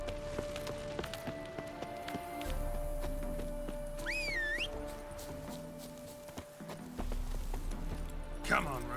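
Hooves of the horse Roach clip-clopping at a gallop in The Witcher 3 video game, steady and moderately close under game ambience, with a brief whinny and someone speaking at times.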